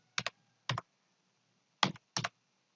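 A computer keyboard is typed on to enter a Google search, giving four short, crisp bursts of double keystrokes with clear gaps between them in an otherwise silent room.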